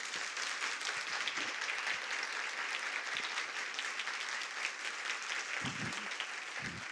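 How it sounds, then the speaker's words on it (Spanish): A conference audience claps in a steady, sustained round of applause, a dense even patter heard from a distance at moderate level, with a few louder close claps near the end. "¿Podéis dar ahora un buen aplauso,"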